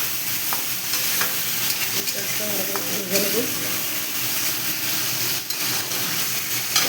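Chopped, rinsed onions fry in a pan with a continuous close sizzle and crackle, broken by occasional stirring scrapes and soft utensil knocks.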